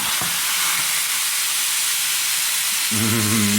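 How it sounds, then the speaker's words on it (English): Loud, steady hissing sizzle of corned beef searing in a hot pan, close up, with a brief low tonal hum entering near the end. "we're gonna sear it on the pan there"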